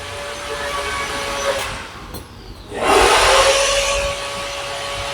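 A power drill from a nearby renovation whines in two bursts, the second louder and more sustained, over a constant indoor hum, heard at a moderate distance with no talk.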